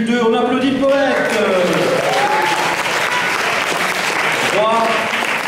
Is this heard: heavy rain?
no